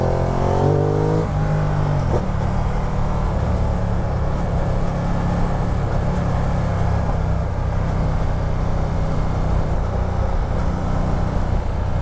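Ducati Multistrada 1200 motorcycle from 2016 revving on a test ride, a loud, continuous engine roar with a brief rising rev at the start before settling into a steady drone mixed with wind rush.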